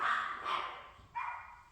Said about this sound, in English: The dogs always tell me when there's someone here.